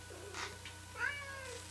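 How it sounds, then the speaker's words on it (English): A pet cat meows nearby indoors, a couple of soft short mews followed by one longer, louder rising meow over a quiet hum. "He's a sweet kitty."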